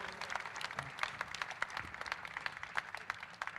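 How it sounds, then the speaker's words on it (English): An audience at a budget dialogue event applauds, scattered clapping heard faint and somewhat distant, continuing evenly for a few seconds with no speech. "Let's give them another round of applause"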